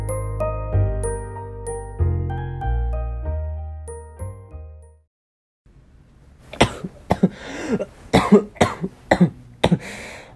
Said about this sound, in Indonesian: Aduh, kok gue batuk-batuk ya?